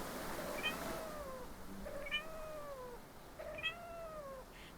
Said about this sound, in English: Chat, it's Mousy Cat!